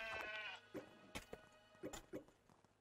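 A sheep bleats in the video game Craftopia, one drawn-out quavering cry at the start, followed by several sharp, short thuds and clicks spaced irregularly, all at low volume.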